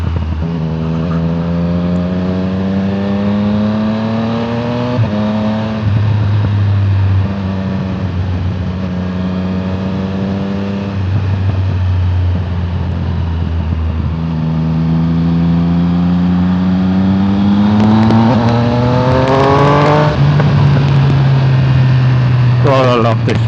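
A motorbike engine drones loudly while riding, rising and falling in pitch through several gear changes, with wind noise and someone talking over it.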